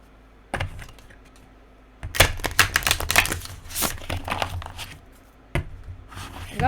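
A deck of tarot cards is shuffled up close in a quiet room, with bursts of rapid riffling and card slaps separated by brief pauses.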